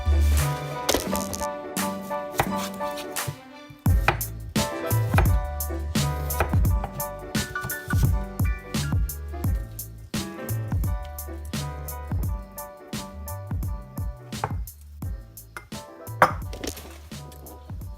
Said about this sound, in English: Thinly slivered onion.